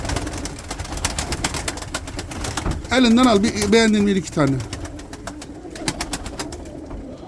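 Pigeons cooing close by during talk, one long warbling coo rising clearly above the other birds and a voice in the middle.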